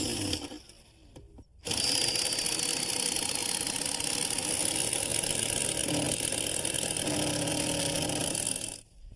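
A power screwdriver drives screws to fasten a wooden deadman to a timber retaining wall, one long steady whirring run after a short faint pause, heard close.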